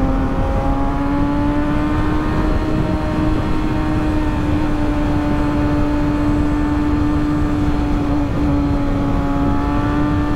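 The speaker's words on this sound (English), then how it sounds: "bike sounds so loud, bro." A loud motorcycle engine drones close by throughout, holding an even pitch with a strong harmonic whine and little variation.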